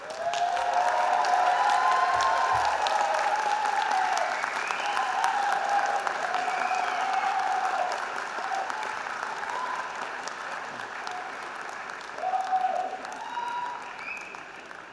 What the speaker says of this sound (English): thank them with a huge cheer and a round of applause